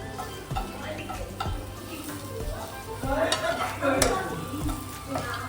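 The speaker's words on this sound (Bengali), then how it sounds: "চাপিলা মাছের শুটকি ভাজা করছে" Soft crackling sizzle of dried chapila fish frying in a pan, broken by clinks and scrapes of a spatula stirring, with faint background voices.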